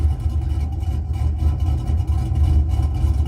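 A truck engine with a small cam and aggressive exhaust idles nearby with a steady, deep, fairly even lope, its low rumble holding constant throughout without talk.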